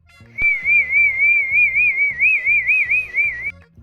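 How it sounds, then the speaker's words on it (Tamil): A neighbourhood Gurkha night watchman blows a long, shrill whistle with a wavering, trilling pitch for about three seconds, over a faint low rhythmic background. "கூர்க்கா இப்படியா விசில் அடிப்பான்?"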